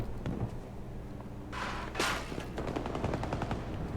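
Automatic assault rifle fire from the video game Battlefield 2042 rattles in rapid bursts, a pair of louder blasts in the middle, steady and close under game ambience with no talk.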